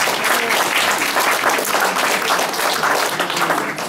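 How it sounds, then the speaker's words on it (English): A dense, steady round of audience applause for Father Thony Pizarro at his birthday celebration, with many hands clapping at a constant level for the whole stretch and no break. "Let us give him a round of applause."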